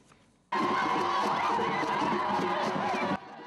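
A loud crowd cheers and shouts for the Prime Minister in Bouaké, Ivory Coast, the roar bursting in abruptly and holding dense and sustained for about three seconds before cutting off.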